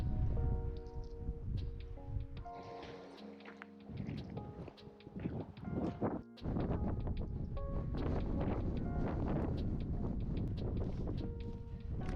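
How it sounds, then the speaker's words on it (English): A strong headwind buffets the microphone on a mountain hiking trail on the Tongariro Northern Circuit in New Zealand, a loud, rumbling roar in uneven gusts with no voices. "I'm going into a headwind, and as I climb up higher, the headwind is only going to get stronger"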